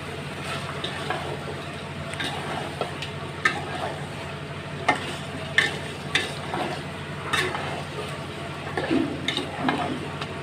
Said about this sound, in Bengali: নেড়ে চেড়ে মশলার সাথে মিশিয়ে নিচ্ছি